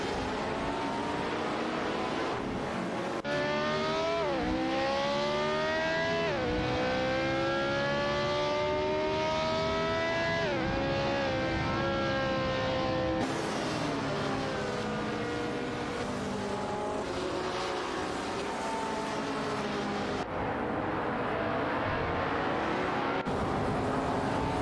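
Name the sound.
race car engine revving and passing, from a racing video game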